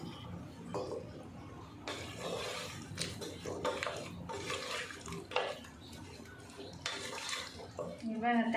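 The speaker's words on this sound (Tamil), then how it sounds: "தண்ணி கொஞ்சமாக ஊற்றுறேன்" A small splash of water is poured into a cooking pan holding potatoes, giving short watery rushes and pan clinks amid quiet kitchen clatter, close and soft.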